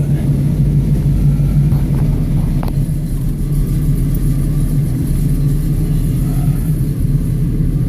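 A 1980 Buick Regal engine runs steadily with a deep low rumble after a timing adjustment, the continuous drone close and loud with a faint brief blip of revving partway through and no talking.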